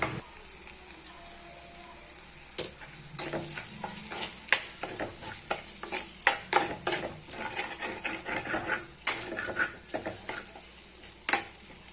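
Tomato and onion with a little salt stirred and sautéed in a pan for a pumpkin chicken gravy, a low continuous sizzle broken by irregular spoon scrapes and knocks against the pan, close and steady throughout.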